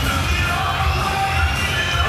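A wrestling crowd in Manchester roars and cheers in a steady, dense wash of yelling voices, loud and continuous with no break.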